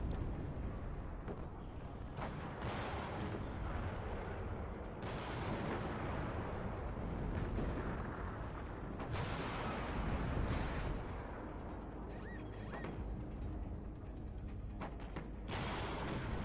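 MLRS rocket artillery fires in the video game WARNO, a dense, continuous rumble of blasts and bursts, with sharper explosions standing out in a loud, chaotic battlefield mix and no voices.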